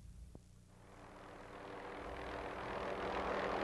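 Helicopter serving as an aerial lift for maintenance on an energized 765,000-volt power line, its steady rotor and engine roar growing gradually louder over a few seconds.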